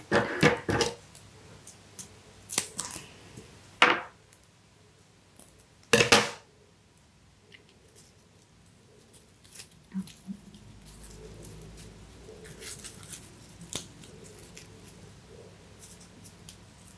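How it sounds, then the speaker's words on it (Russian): Adhesive tape is pulled and pressed onto a handmade paper greeting card. Several loud, brief ripping bursts are followed by soft rustling and handling noises nearby, with no talking. "Давайте мы его приклеим скотчем"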